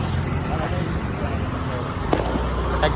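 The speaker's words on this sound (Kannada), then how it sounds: "ಪಟಾಕಿ ಫುಲ್ ಪಟಾಕಿ" Firecrackers bursting outdoors during Deepavali celebrations, a couple of sharp cracks over a rumbling, windy background with distant traffic noise.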